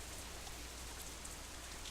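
Steady rain falls in the visual novel game Katawa Shoujo, a dense, even hiss of drops that holds at a constant level for the whole stretch with no voices.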